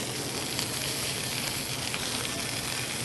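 A holiday dish browning in a hot pan gives off a dense, even sizzle, a loud continuous frying hiss close by with no pauses.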